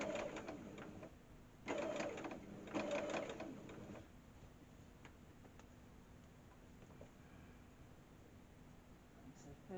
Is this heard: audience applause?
no